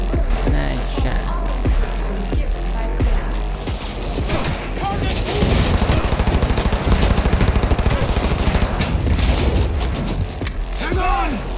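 Rapid gunfire bursts from the video game Cyberpunk 2077, loud and sustained with repeated shots and booms, mixed with game effects and voices talking over the action.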